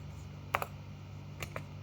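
Someone types on a computer keyboard while editing Java code. Two short pairs of close, crisp key clicks sound against a quiet, humming room.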